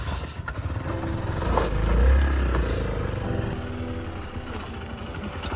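A Hero XPulse 200 motorcycle rides off-road toward Urumbikkara, its engine a steady close drone that swells slightly midway, with clattering and wind noise throughout and no talking.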